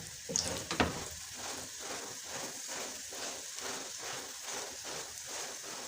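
Sarson saag paratha sizzles steadily in a pan as it is turned, a continuous frying hiss with a brief louder crackle near the start.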